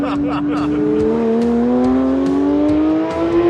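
A Porsche sports car engine drones loudly and steadily, its pitch slowly rising as it accelerates, heard close from inside the car.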